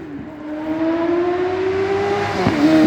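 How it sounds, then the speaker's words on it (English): Motorbikes race past on a country road, their engines rising into a loud, steady whine that swells as they come near and then changes pitch as they pass. "That's what you get on this road. Bike races."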